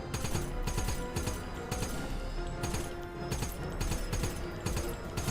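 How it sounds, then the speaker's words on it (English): Anti-aircraft gun firing in the Wolfenstein (2009) video game: a continuous, dense stream of rapid shots with crackling impacts that stays loud and steady throughout and never pauses. "AA gun just sounds way too weak."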